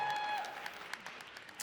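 A keynote crowd cheers and claps at a legal-tech conference, scattered applause after a brief tone, fairly faint and thinning out over a second and a half.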